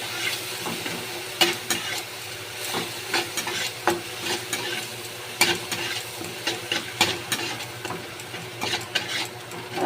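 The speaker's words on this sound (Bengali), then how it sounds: "দেবো হাফ চামচ লঙ্কা গুঁড়ো, ছোট চামচের হাফ চামচ হলুদ গুঁড়ো দিয়ে এবার একটু কষা নেব" Chili and turmeric powder sautéing with spices in a pan for a hilsa fish curry, a steady close sizzle broken by repeated sharp scrapes and clinks of a spatula stirring, no voices.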